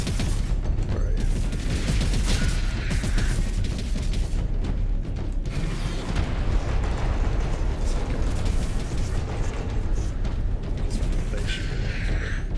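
Enemy gunfire from the Warhammer 40,000 video game Space Marine crackles in dense, continuous bursts amid a loud, chaotic battle mix with mechanical clatter and explosions, while a voice talks over it.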